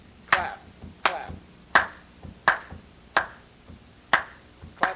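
Half of a classroom claps a steady 4/4 beat together during a summer speech course, sharp unison claps landing roughly every two-thirds of a second, each with a short ringing room tail, with no talking over them.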